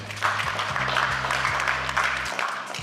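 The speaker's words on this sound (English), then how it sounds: "Please help me to clap for her." An audience at a live event clapping for a keynote speaker: steady, dense applause from a crowd, fairly close and continuous, with a low hum underneath.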